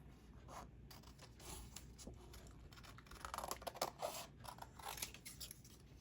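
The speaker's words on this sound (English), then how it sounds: "Cutting this, just fussy cut around" Scissors fussy cutting around a paper shape, a steady series of small close snips and scrapes, quiet and continuous, no talking.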